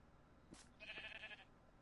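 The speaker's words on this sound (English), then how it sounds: "Shut up, sheep." A sheep in the Minecraft video game gives one short, clear bleat, wavering and faint, against a quiet background with no talk.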